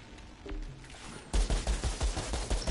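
Dual pistols fire in the shooter game Outriders: after a quiet lead-in, a rapid string of loud, evenly spaced shots starts abruptly and keeps going to the end.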